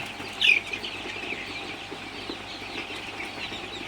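Sonali super hybrid chicks at night give a dense, steady chorus of high chirps with one sharper peep standing out near the start; no voices are heard.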